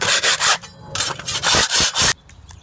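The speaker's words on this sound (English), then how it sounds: "So just knocking the clinkers off of here, taking down the ridges." A tool scrapes clinkers and ridges off a dried Sikacryl ready-mix stucco patch in a rapid series of loud, close rasping strokes with short gaps between them.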